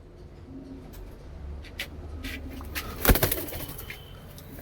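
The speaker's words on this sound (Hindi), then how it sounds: "सारे कबूतर उड़े हुए हैं छतरी के" Nami Panjabi Malwai pigeons gather on a chhatri perch, giving soft low coos, followed by a louder burst of fluttering wing flaps and scuffling near the middle.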